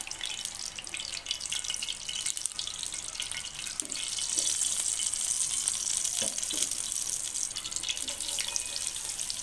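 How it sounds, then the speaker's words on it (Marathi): Teaspoon of cumin seeds dropped into well-heated oil for tempering, a steady bright sizzle and crackle hissing at moderate level, with a few faint clinks and no talk. "तर इथे आपण तेल छान तापवून घेतलेले आहे। त्यामध्ये आता 1 टीस्पून जिरे टाकूया।"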